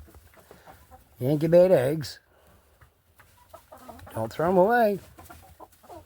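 Young roosters clucking loudly in a coop during egg incubation, two harmonic bursts of clucking close by with a person talking quietly between them.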